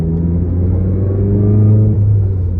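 A Volkswagen Golf GTI with a stock exhaust, its engine heard from inside the cabin as a steady, close, low droning hum that rises slightly in pitch as it accelerates, with no talking.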